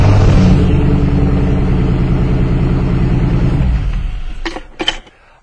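A car engine runs loud and close with a steady low rumble for several seconds before cutting off, followed by a couple of brief clicks in the quiet.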